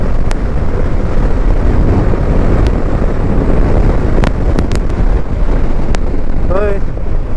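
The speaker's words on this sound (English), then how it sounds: "the climate is breezy, windy, and it's a perfect climate to ride." Heavy wind buffets the microphone while riding a BMW G310 GS motorcycle on a breezy day, a loud continuous low roar with a few faint clicks and a brief chirp near the end.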